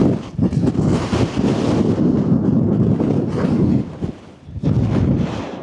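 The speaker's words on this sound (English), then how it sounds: "This is the wind we've been dealing with all night." Strong wind gusting across an open Lake District fell, a loud continuous roar buffeting the microphone with a brief lull before another gust; no talking.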